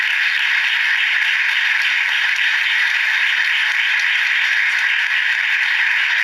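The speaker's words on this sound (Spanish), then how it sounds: "Para ellos pido un aplauso de bienvenida." A studio audience applauding in welcome on a television talk show, a steady dense wash of clapping that holds at an even level throughout, with no voices over it.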